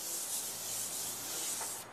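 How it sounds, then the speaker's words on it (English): Steady, close scratching of 80 grit sandpaper worked across a boat propeller to rough it up, a continuous hiss with no talk and a brief drop at the very end. "Just take your 80 grit sandpaper, start working it into the prop until you get a nice rough keyed finish."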